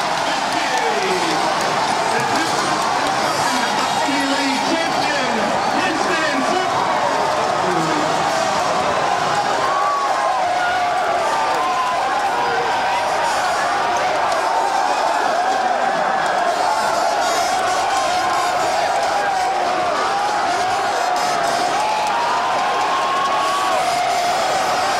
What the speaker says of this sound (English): the crowd here at Jadwin going nuts